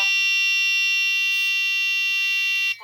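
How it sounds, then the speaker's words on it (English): Unarmed drone motors beeping: a loud, continuous high-pitched electronic tone held steadily for almost three seconds, close by and alone, cutting off at the end. "If you don't arm it, the motors start to beep."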